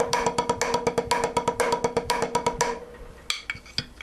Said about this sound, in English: So you might be used to accenting maybe the first note of each paradiddle.